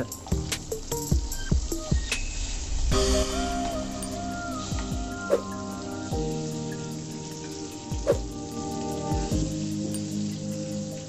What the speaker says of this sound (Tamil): இந்த மாதிரி நிற்க வச்சும் கொஞ்ச நேரம் ஃப்ரை பண்ணுங்கள்